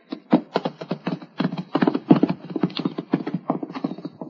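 Radio drama sound effect of horse hooves clip-clopping, a steady run of close, crisp hollow knocks in uneven pairs, loud and alone with no talk over them.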